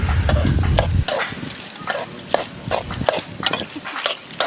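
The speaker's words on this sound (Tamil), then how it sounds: "இஞ்சி பூண்டு பேஸ்ட் ரெண்டு பாக்கெட் நல்லா கிண்டுறேன்" Ginger garlic paste, two packets' worth, being stirred in a cooking pan for a country chicken fry: a ladle scrapes and taps the pan in quick repeated strokes, close and clear, over a faint sizzle, with a low rumble fading after the first second.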